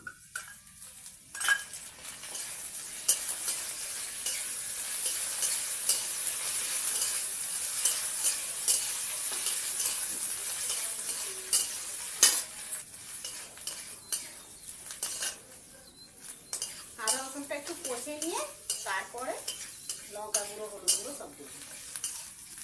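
Ginger and garlic fry in a pan for a small-fish curry with mango blossom, a soft steady sizzle under repeated clinks and scrapes of a spoon stirring against the metal, with a brief stretch of quiet voice near the end.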